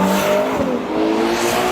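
A Ferrari Purosangue's 6.5-litre, 12-cylinder engine revs loudly and close, its rising tone sweeping upward briefly before easing off, with no voices.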